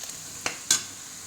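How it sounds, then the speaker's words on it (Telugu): Mustard seeds and sesame seeds heat in a pan with a faint, soft sizzle, broken by two quick crackling pops from the seeds. "ఆవాలు, నువ్వులు కొంచెం వేడి చేసి పట్టేసుకోవాలి."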